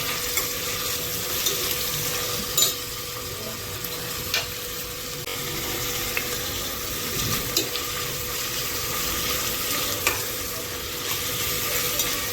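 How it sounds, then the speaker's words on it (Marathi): Sliced onions sauté in oil inside a pressure cooker, a steady soft sizzle with occasional stirring scrapes and light clinks, close and continuous with no voices. "आता हा कांदा आपण गोल्डन ब्राउन कलर होईपर्यंत परतून घेणार आहोत"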